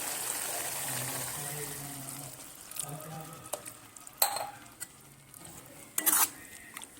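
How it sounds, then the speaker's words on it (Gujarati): Onions and chilli frying in oil for a spring onion sabzi give a sharp sizzle as water is added, then the hiss fades to a softer simmer broken by a few clinks and scrapes of stirring in the pan. "તો હવે આપણે એમાં ડુંગળીને શેકાવા માટે થોડું પાણી એડ કરીશું"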